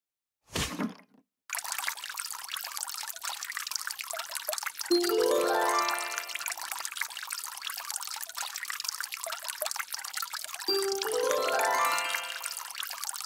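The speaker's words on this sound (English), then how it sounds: "I'm watering the plants to help them grow." Water pours steadily from a watering can onto plants in a cartoon classroom, a continuous splashing stream after a brief opening clunk, with two rising gurgling fills as the flow changes, loud and close throughout.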